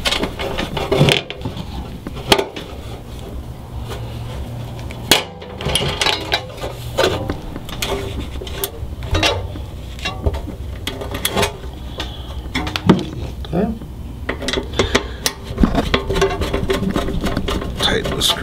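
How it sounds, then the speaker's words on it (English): Screwdriver driving a screw down onto a nut while a finger holds the nut, during assembly of a Fresca Sol furniture piece: repeated short ticking, clicking turns and small clunks of hardware handling, fairly close, under an ongoing background hum. "Tighten the screw down on the nut."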